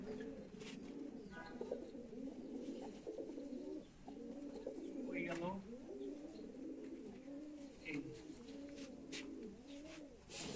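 Several pet pigeons, including a young male of a black diamond breed, coo softly in a continuous low warbling, with occasional faint chirps and brief clicks nearby and no talk over them.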